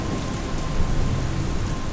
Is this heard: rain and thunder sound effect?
yes